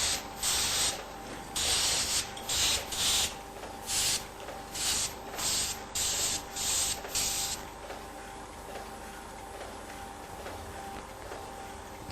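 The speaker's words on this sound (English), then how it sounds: "The use of compressed air is one way of achieving this." Compressed air blasts a filter from a 1988 Heidelberg GTO printing press dry, hissing in a run of short rhythmic spurts before settling into a steady continuous spray, loud and close with no talk.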